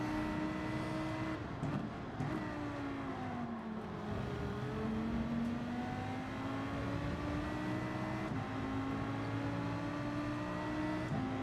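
A racing car in Gran Turismo at the Dragon Trail Gardens circuit, its engine droning steadily with pitch climbing and dipping through gear shifts, other cars audible around it.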